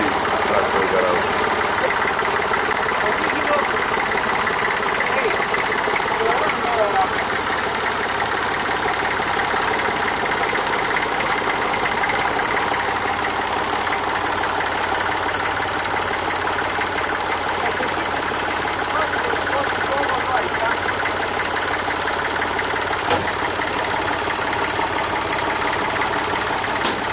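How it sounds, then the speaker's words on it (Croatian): A tractor engine from 1991 in a village in Klenovec runs steadily at close range throughout, a continuous mid-pitched chugging drone with no talk. "evo sam će onda vrati traktor u garažu"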